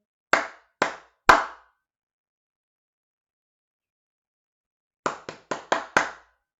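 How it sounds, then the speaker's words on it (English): Close, crisp hand claps tap out a rhythm in a mindfulness session: three spaced claps, a long silent gap, then a quicker run of about six claps. "So if I clap a rhythm, I want you to clap that rhythm back."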